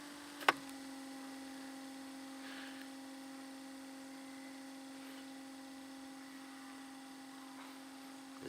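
Minn Kota Endura C2 trolling motor running at speed 5, a faint steady electric hum and whine that holds constant throughout after a single sharp click near the start, with no talking.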